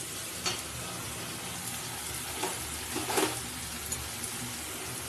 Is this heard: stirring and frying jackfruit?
yes